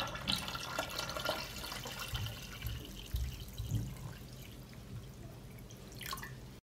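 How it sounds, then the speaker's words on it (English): Cold water runs into a pot that holds glass jars sitting on a cloth. There is a steady pouring and trickling wash with light drips, close and fairly soft, and no talking. "I pour cold water up to the height of the pot cover."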